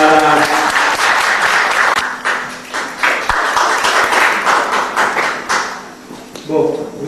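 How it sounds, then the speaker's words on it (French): Audience applause fills a gallery talk on the Nice school art scene, steady dense clapping throughout with voices and cheers mixed in, tapering briefly near the end before swelling again. "Est-ce que vous pourriez applaudir un petit peu?"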